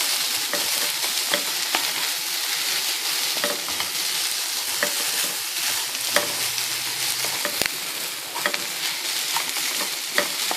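Ivy gourd sautéing with masala in a pan, a constant bright sizzle under repeated scraping and clicking stirs of a spoon, close and steady throughout, no voices.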